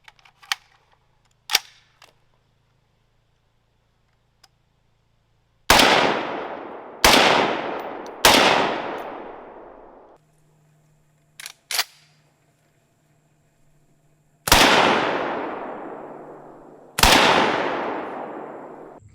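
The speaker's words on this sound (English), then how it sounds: "So for a little test here, we shot some ice, and you could see the difference in damages." M16 rifle gunshots firing 5.56 and 7.62 rounds into blocks of ice outdoors, six loud single reports at irregular spacing, each with a long decaying echo, separated by near-silence and small clicks.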